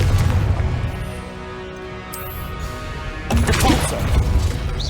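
A Confringo blast spell explodes in Hogwarts Legacy, giving loud, booming magical bursts with crackling debris. A heavy impact near the start is followed by a second strong burst later, with no talk.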